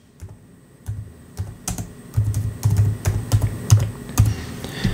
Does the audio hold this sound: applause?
no